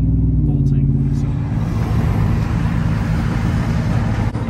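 A supercharged first-generation Ford Roush Raptor pickup drives a mountain road, its engine droning with a low harmonic hum. Road rumble fills the cabin, and a voice speaks briefly over it.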